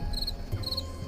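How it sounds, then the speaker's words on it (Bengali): Crickets chirp at dusk in short repeated high trills against a quiet, low background hum, two bursts clearly audible, faint and steady with no voices. "চারিদিকে ঝিঝি পোকার ডাক"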